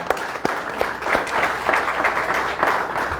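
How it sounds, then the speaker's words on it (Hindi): Applause from a gathered crowd welcoming a new member into the BJP at party headquarters, steady dense clapping with a few sharper claps standing out, sustained for several seconds. "तालियों से स्वागत करें"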